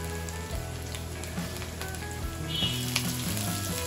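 Chillies mixed into hot oil in a frying pan for spicy homemade kheema sizzle softly and continuously, with light crackles and a low background hum, close but fairly quiet.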